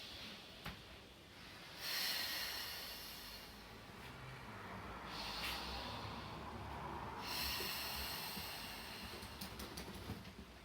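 Slow exhalations during a beginners Pilates exercise come as a few long, breathy whooshes of air spaced several seconds apart, close and soft, with no talking.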